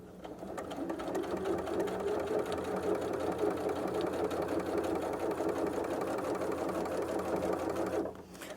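A sewing machine runs steadily, stitching through several layers of a double wallet at a shortened stitch length, a continuous close whir that stops abruptly near the end.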